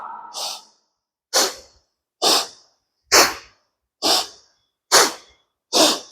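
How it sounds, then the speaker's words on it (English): Seven slow, deep breaths during a seated Kundalini yoga exercise, each a breathy rush of air roughly a second long, separated by short silences, close and clear with no talking. "You're going to breathe in and breathe out."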